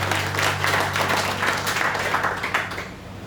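A church congregation at a Christmas service gives a steady round of applause, dense and reverberant, lasting a few seconds with a low hum beneath before it fades out.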